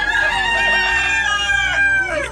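Chickens, including Brahma, American breeds and Easter eggers, crowing and clucking loudly up close, with overlapping calls throughout and no speech.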